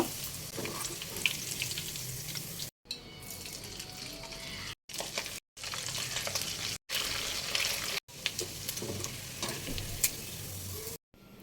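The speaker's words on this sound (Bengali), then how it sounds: "ক্রিস্পি করে ভাজতে হবে চিকেনগুলো" Chicken pieces frying in oil until crispy, giving a continuous close sizzle with crackling bursts, broken by several short silent gaps, with no talking.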